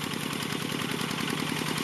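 Walk-behind rice-field tractor powered by a single-cylinder engine, chugging at a constant rapid beat, loud and near throughout, alone without speech.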